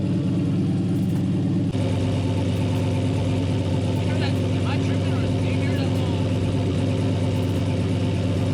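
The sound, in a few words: turbo LS engine idling in G-body Malibu, exhaust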